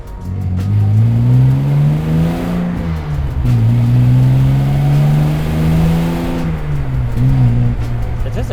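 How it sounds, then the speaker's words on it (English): A 1970 Jaguar XKE E-Type Roadster's inline-six engine revs and accelerates smoothly from a rolling start, a loud, steady, rising drone with harmonic overtones that dips briefly between gear changes. "It just accelerates really smoothly and has that beautiful sound that the Jags were known for"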